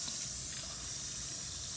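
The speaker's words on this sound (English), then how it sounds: "turn the water off" Water runs from a tap in a steady, quiet hiss-like stream for under two seconds, alone with no voices.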